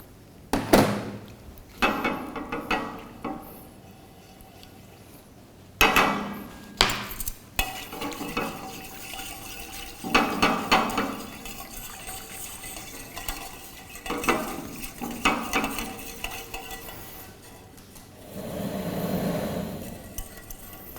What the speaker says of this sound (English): I will mix half of the sugar into this milk.